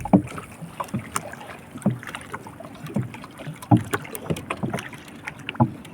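A small fishing boat rocking on waves during the habagat monsoon, with irregular knocks and water slaps against the hull, wind noise on the microphone and no talking.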